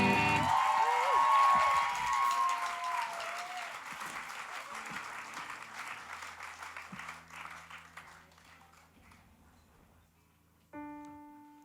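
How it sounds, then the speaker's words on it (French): Concert audience applause in a school concert hall, a loud dense round of clapping that gradually thins and fades out, then a few sustained instrumental tones enter near the end. "on fait un tonnerre d'applaudissements"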